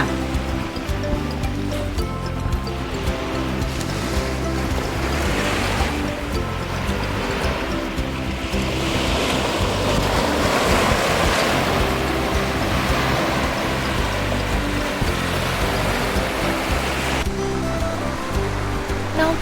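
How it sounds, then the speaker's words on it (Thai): Steady sea surf and wind roll in continuously along the beachfront of a hotel in Okinawa, loud and close, with a constant wash of breaking waves and no talking. "จากโรงแรมที่พักเนี่ยจะติดทะเลแล้วนะคะ ให้เราได้ยินเสียงคลื่นเสียงลม"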